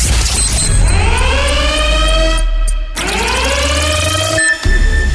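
A game show buzzer sounds loud and sustained as a contestant hits the button, a bright tonal blare that rings for several seconds, cuts briefly, then sounds again.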